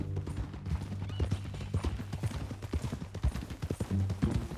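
Horse hooves clip-clop at a steady walking rhythm in Red Dead Redemption 2, close and clear, carrying on for several seconds with no talking over them.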